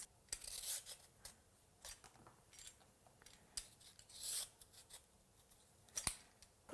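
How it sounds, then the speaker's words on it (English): A carrot is peeled into thin strips, producing soft, quiet scraping strokes in an uneven rhythm, close by and with no talking. "I'm going to peel this carrot into nice"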